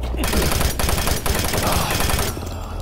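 Rapid, loud, dense bursts of machine gun fire in the video game DOOM 3, continuous over a rumbling game soundtrack with a brief pause near the end.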